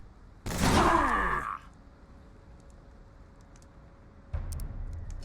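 A single loud, sharp shot from the turn-based tactics game Mutant Year Zero, with a ringing tail lasting about a second, followed by quiet and a softer thump near the end; no talk.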